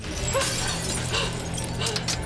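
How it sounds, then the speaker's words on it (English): Breakaway prop glass shatters on a film set, a crisp crunching break with gritty tinkling fragments scattering in several quick bursts, fairly loud and close. "Because the glass is made to break, it breaks in really small, gritty pieces that tear at your skin."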